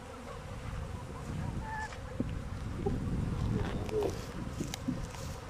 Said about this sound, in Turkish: arı burada. Hala orada geziyor